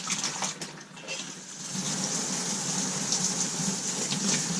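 Water runs from a newly connected RV tap, starting sputtery and uneven before settling into a steady, fairly close gush of flowing water.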